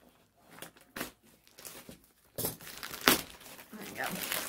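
Plastic packaging crinkles and tears in irregular bursts as a Smart Doll box full of bundled items is opened up close, some rustles sharp and loud.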